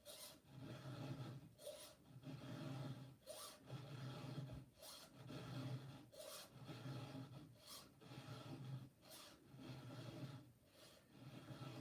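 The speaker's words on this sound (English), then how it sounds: "You're going to peel burrs off," Rasp filing burrs off, a steady rhythmic rasping scrape repeating in even strokes about every second, close and fairly quiet, with no talk.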